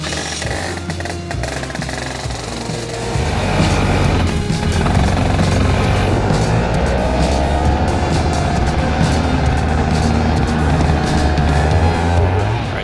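A racing kart engine drives around a track with a loud, continuous buzzing drone that swells and holds steady after a few seconds, heard up close with wind noise and no talking.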